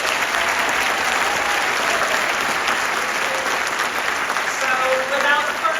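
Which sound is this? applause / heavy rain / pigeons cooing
applause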